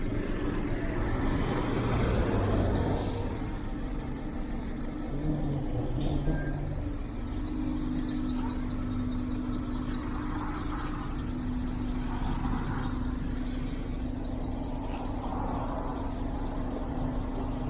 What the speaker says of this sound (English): as the bus went on its way back down the road